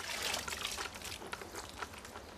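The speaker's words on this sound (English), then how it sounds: "Then alternate your buffing with rinsing it off" Water trickling and pouring over car paint during a rinse between rounds of buffing out faded, rough paintwork with compound, a steady close splashy wash with small drips and spatters, no talking.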